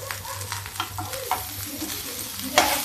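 Browned potato pieces frying in a pan for Kanpur-style matar chaat, a steady close sizzle broken by several scraping stirs of a spoon, with one sharper scrape near the end.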